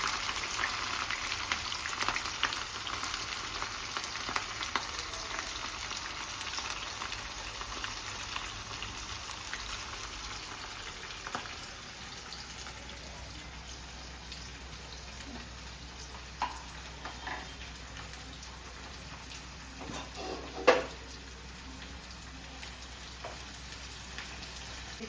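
Onions and green chillies fry in hot oil in a pan for chicken curry, a quiet, even crackling sizzle with scattered soft pops and one brief knock, no one speaking.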